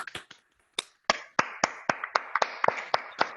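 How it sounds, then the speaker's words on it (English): An online audience on unmuted microphones applauds a guest speaker: a few sharp isolated claps, a brief silence, then a run of crisp, close claps in an uneven rhythm, with no voices. "give Dr. Peck a round of applause"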